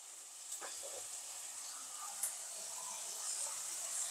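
Spices with ground turmeric, chili powder and ground cumin sizzling and being stirred in a pan for a sweet-sour brinjal pickle, a steady close hiss of frying with a few soft stirring scrapes.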